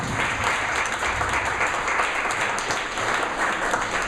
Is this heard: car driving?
no